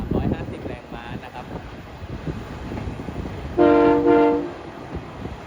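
A three-car diesel railcar express train rumbles past with steady engine noise and wind buffeting, then a loud two-tone horn blast sounds near the end.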